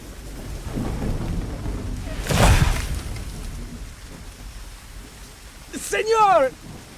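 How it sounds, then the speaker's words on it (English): A video game thunderstorm with a steady wash of rain and wind, a deep rolling thunder crack near the middle, and a voice briefly sounding near the end. "This storm came out of nowhere."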